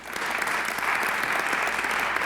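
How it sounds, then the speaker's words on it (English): Audience applause at a congressional luncheon, a loud, steady burst of many hands clapping that rises quickly and holds evenly throughout. "Oh, we can applaud that."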